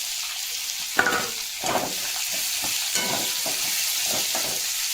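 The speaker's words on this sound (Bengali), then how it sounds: "পেঁয়াজটা আমি সুন্দর করে ভেজে নেব" Onions fry in a pan with garlic and browned potatoes, giving a close, steady sizzle broken by repeated scraping stirs of a spatula.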